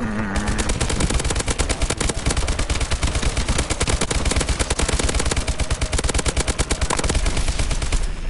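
Rapid automatic gunfire in a first-person shooter video game aimed at an enemy Warbird aircraft, a loud, unbroken stream of closely spaced shots lasting several seconds with no talking.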